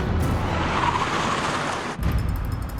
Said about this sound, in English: The car then loses traction and skids out of control.